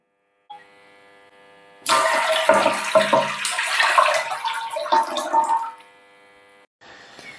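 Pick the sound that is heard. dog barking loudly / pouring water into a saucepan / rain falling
pouring water into a saucepan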